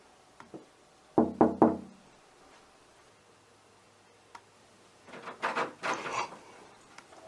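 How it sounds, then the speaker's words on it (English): Three sharp knocks on a door in a reputedly haunted room, close and distinct, followed by quiet and then a burst of faint rattling and knocking noises. "See what happens if I knock on it."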